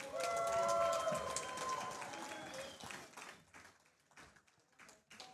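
Audience applause at a CWF Voltage wrestling show for wrestler Chris Mason, crowd clapping that starts full and gradually thins and fades, with an announcer's voice over the start.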